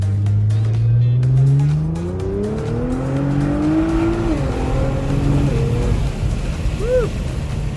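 A 600-horsepower Nissan GT-R R35 Alpha revs hard and accelerates, its engine note climbing loud and close through rising gear pulls, with a brief tire chirp near the end.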